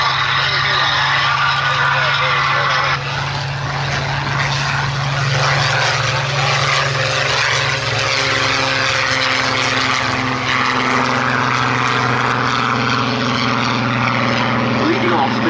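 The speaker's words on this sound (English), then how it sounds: "There goes the first of the Spitfires, the Joker, the aerial speed icons." A Supermarine Spitfire Mark 14 passes at the Duxford Battle of Britain air show. The propeller engine sends a loud, steady drone that builds and holds, and an announcer talks over it.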